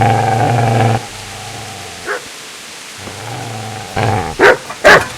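A dog barks in Kingdom Come: Deliverance, with a low rumbling growl before and between short loud barks near the end, close and alone over a quiet background.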